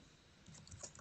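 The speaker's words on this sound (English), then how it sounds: "So here I'm going to type" Quick, faint clicks of a computer keyboard as a command is typed into a terminal, a short burst of a few keystrokes heard alone.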